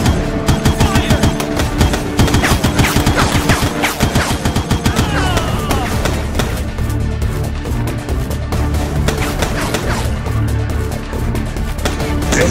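Dense rapid bursts of automatic gunfire in the shooter game Foreclosed, loud and close, with rattling volleys through the first half then scattered shots and booms, no talk.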